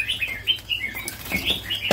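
Songbirds chirp at a Vietnamese bird shop, including a hwamei among spotted doves and white-cheeked laughingthrushes, giving repeated bright whistled calls with some wing flutter, close and fairly loud with no talking.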